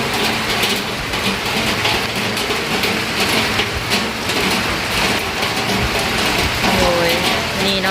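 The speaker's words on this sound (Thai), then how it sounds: "ฝนก็ยังตกอยู่เนาะทุกคน ยังตก ยังลินอยู่ทุกคนเอ้ย" Steady rain falls outdoors in a continuous broadband hiss that stays fairly loud and even throughout, with some faint background sounds mixed in.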